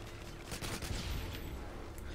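Gunfire in Call of Duty Modern Warfare 2, a dense, steady burst of automatic shots running through the whole stretch at moderate loudness, with no voices.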